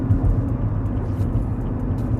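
A 2021 Camaro SS 2SS engine rumbles in a steady low drone, close and fairly loud throughout, with no voices. Separate exhaust snaps are not distinct.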